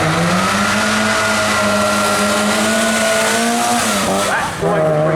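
An Austin Mini Cooper S race car at the Brighton Speed Trials roars past at high revs, its engine note rising and holding steady before a brief dip and a quick shift near the end, loud and close throughout.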